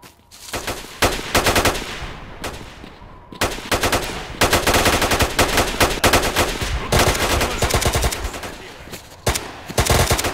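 Dense, rapid bursts of automatic gunfire and single shots from a firefight in the video game S.T.A.L.K.E.R. Lost Alpha, loud and near, nearly continuous with only brief gaps between volleys.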